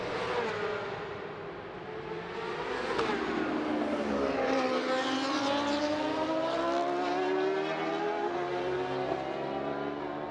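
Racing motorcycles at the 2023 Macau Grand Prix, the 55th motorcycle final, produce a steady, loud engine drone with rising and falling whines as the bikes roll slowly into position on the street circuit.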